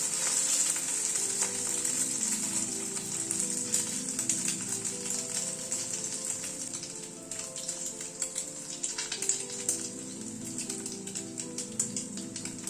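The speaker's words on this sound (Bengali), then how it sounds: "গ্যাসের ফ্লেমটাকে মিডিয়ামে রেখে ভেজে নিচ্ছি।" Steady, dense sizzling and crackling of chowmein nests dipped in egg, frying in oil in a kadai over a medium gas flame, continuous and close with no speech.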